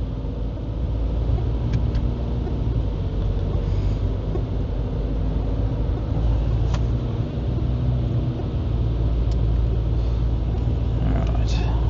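A car engine pulls hard on a dyno in fourth gear with updated software, a loud, steady, close roar that holds for the whole stretch without letting up.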